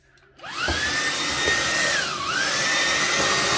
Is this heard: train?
no